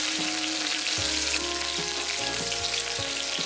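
Green chilli and onion frying in oil on a stove, a loud steady sizzle with occasional stirring scrapes and clinks, no talking.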